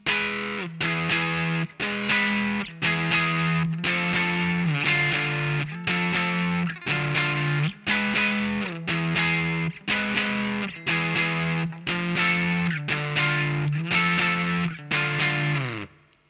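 A heavily distorted electric guitar plays a chugging riff in repeated bursts with brief gaps, loud and steady with no talking.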